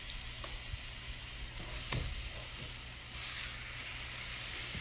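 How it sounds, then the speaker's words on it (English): Pork chops searing in a hot skillet give off a steady, loud sizzle and hiss, with occasional pops and a brief scrape near the middle, heard up close with no talking. "That's a good sound because you're wanting to sear them to lock in the juices."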